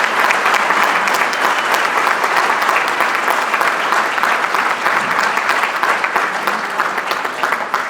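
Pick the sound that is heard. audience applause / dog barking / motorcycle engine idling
audience applause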